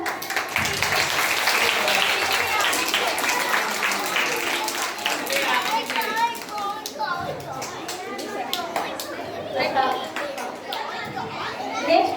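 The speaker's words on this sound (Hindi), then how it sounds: "इसलिए जोर से ताली बजा दिया जाए।" An audience at a school Mother's Day celebration claps loudly and continuously, with dense ragged applause mixed with children's voices and chatter, tapering slightly toward the end.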